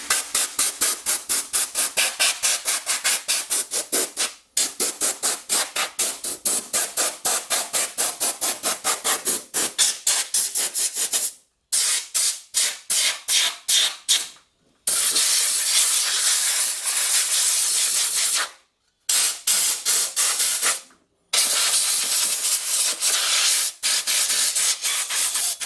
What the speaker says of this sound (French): On souffle l'alimentation.